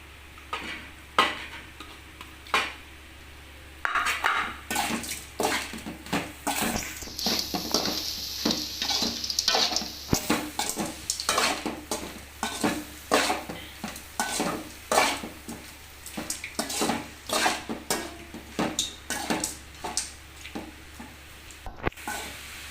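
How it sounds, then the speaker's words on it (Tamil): Two kinds of greens, red amaranth and black nightshade leaves, are stir-fried with egg in a pan for poriyal: steady sizzling under quick, repeated scraping and clinking of a spatula against the pan, close up and constant. "நல்லா வதங்கிருச்சு இப்போ வந்து கீரை போட்டுக்கலாம்"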